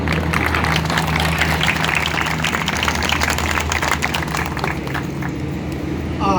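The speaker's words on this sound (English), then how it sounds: "How about another round of applause for David and the team?" An outdoor crowd at a Pride flag raising in Windsor applauds steadily, with continuous clapping and traffic in the background.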